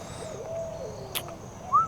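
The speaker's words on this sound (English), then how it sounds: "Sounds like an owl." An owl hoots softly in the distance outdoors, a faint drawn-out call over quiet background hiss. A brief sharp chirp follows near the end, with no talking.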